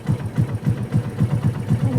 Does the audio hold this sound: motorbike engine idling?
yes